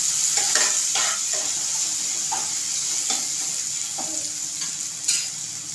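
Onion, ginger-garlic paste and tomato stirred in a frying pan for anda bhurji: a steady, close sizzle with repeated scraping strokes of a spatula and a sharper clack near the end, no voices.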